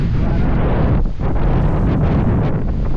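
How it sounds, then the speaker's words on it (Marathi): Strong wind on a cloud-covered mountain trek buffets the microphone in a continuous, heavy roar with brief dips and gusts. "या ढगात जसं वरती आलोय वाऱ्याचा वेग वाढत आहे"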